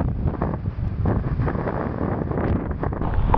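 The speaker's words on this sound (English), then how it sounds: "the heavens have absolutely opened again. It's just torrential" Torrential rain pouring down outdoors on the road to Lang Co, a loud, steady roar of heavy downpour that buffets the microphone with no break.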